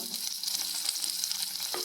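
Tomatoes frying in an earthenware pan, a steady close hiss and sizzle of hot oil with faint stirring crackles throughout, no speech.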